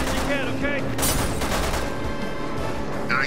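Gunfire in the video game Resident Evil 6, loud bursts of shots and a dense rattle against game effects, with a voice talking over it.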